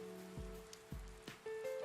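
Steady nighttime rainfall from Persona 4 Arena Ultimax patters quietly and continuously on surfaces, with no voices, under low droning musical tones.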